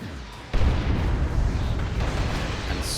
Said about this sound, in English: It's a very elaborate-looking smoke grenade for a second.